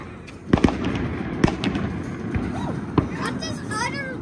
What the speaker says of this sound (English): Well, because it was a cow firework.